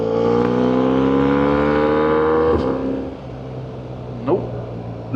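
A BMW R1300GS motorcycle fitted with a Black Widow exhaust holds a steady high rev, then drops off sharply, and a couple of quick throttle blips follow, loud and close.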